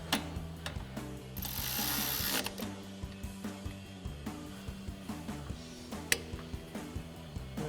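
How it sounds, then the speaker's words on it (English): A hand ratchet with a 10mm socket tightens bolts while installing a coil-over suspension kit on a 2016-2024 Chevrolet Camaro, giving a long run of steady, close, evenly spaced clicks after a brief louder rasp. "we'll use our 10mm socket and our ratchet to go ahead and do that"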